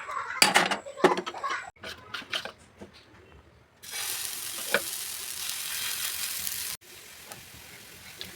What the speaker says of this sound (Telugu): ఇలా స్టవ్ అనేది లో ఫ్లేమ్ టు హై ఫ్లేమ్లో పెట్టుకొని మనం దోశ అనేది వేసుకోవాలండి. అలాగే కొద్ది కొద్దిగా ఆయిల్ కలుపుకోవాలి.